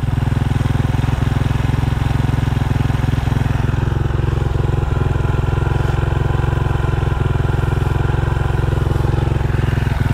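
A motorcycle engine with a 28 flat-slide carburetor runs steadily at a close, even idle during pilot jet and air screw tuning, with a constant throbbing chug and a few faint clicks.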